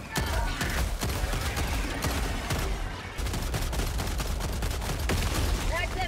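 Sustained, loud gunfire in the video game Helldivers 2: dense rapid bursts and overlapping shots that keep going almost without a break, with a short dip near the middle.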